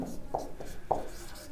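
Marker or chalk writing on a board during an electric field physics lesson: a few short scratchy strokes in an uneven rhythm, close and fairly clear, with faint room noise between them.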